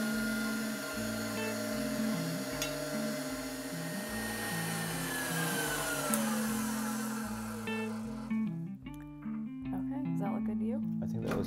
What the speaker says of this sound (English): those egg whites that I just put right in my stand mixer, we're gonna start beating those